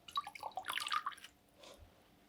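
Wet clay slip is worked into yarn fibers by hand to push out bubbles, giving a quick run of soft, faint squelches and drips that fade to near silence.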